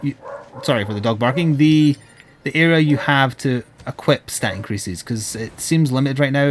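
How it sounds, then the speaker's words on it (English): A dog barks intermittently in the background while someone talks continuously over it, the barks partly masked by his voice. "sorry for the dog barking"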